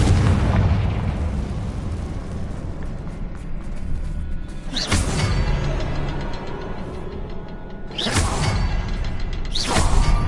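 The Confringo explosion spell bursts in Hogwarts Legacy inside a mine, loud booming blasts with rushing whooshes layered over dense, continuous game ambience.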